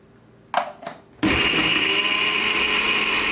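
An electric blender roars loudly and steadily as it whirls a kale, green superfood powder and plain yogurt smoothie, preceded by two brief clunks.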